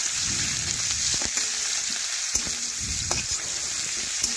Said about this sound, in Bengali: পেঁয়াজ একটু ভেজে নেব।